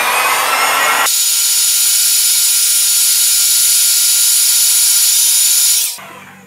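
Heat gun set to 200 degrees warming a Samsung Galaxy A52 screen part, a steady loud fan-driven whine and rushing air held for several seconds, then switching off, with no talking.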